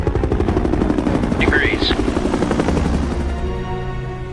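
A military helicopter's rapid rotor chop pulses steadily and loudly throughout, with a brief high-pitched sweep midway and the noise easing slightly near the end.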